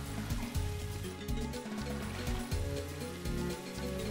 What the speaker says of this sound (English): we want to go down this waterfall.